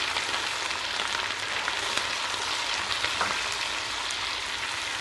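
Onion, garlic-ginger paste and tomato frying together in a pan for qeema biryani, a steady dense sizzle with a rain-like crackle running evenly throughout, close and moderately loud with no talking.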